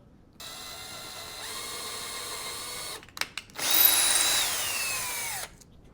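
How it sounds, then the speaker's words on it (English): A power drill whirs steadily while boring holes into an interior door during knob installation, then stops briefly and starts again with a louder, higher rising whine, close by and without talk. "All right, so I'm just gonna drill."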